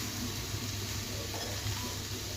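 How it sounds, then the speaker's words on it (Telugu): Fenugreek leaf fried rice being stirred in a hot pan gives a steady, close sizzling hiss with soft scraping, continuous throughout with no talk. "ఒకసారి బాగా కలుపుదాం."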